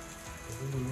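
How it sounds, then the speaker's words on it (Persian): Heavy rain pours down steadily on a campsite in northern Iran, a dense close hiss of drops striking surfaces. "ببین بارون شدید بچه‌ها."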